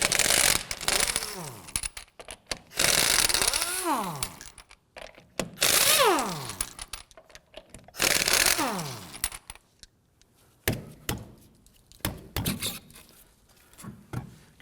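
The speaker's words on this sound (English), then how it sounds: "we're going to use our 19mm socket to loosen and remove the lug nuts" Loosening lug nuts on the rear wheel of a 2008-2011 Ford Focus with a 19mm socket, in a series of loud bursts of power-tool buzzing and ratcheting clatter at close range, broken by short quiet gaps.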